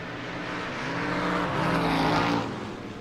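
Drag race at a No-Box 660 event, a Mustang against a 1988 Chevrolet S10 pickup, with loud race engines roaring and swelling to a peak midway as the cars pass before fading slightly.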